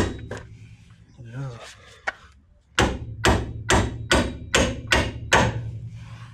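Hammer blows on a car suspension ball joint, a series of about eight loud, close metallic strikes in a steady rhythm after some quieter taps and brief speech.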